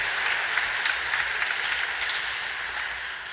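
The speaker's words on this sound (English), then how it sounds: "Let's give her a round of applause for her leadership and all the great work she's done." An audience at Governor Cuomo's remarks marking an assassination anniversary claps steadily, a dense, even round of applause lasting a few seconds.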